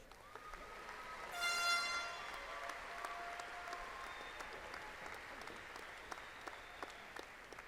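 Applause rises from the audience at a fall university commencement ceremony for graduates, a steady distant clapping crowd with a brief swell early on and high whistle-like tones at the start.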